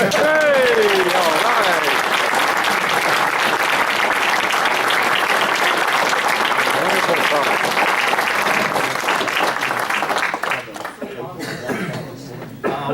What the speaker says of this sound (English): Now you can applaud.